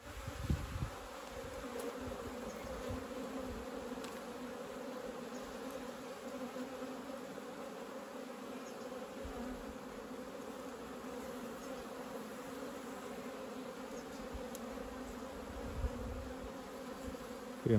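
Bees buzz around queen cells in a hive, a continuous, even drone that stays steady and fairly close throughout, with no voices.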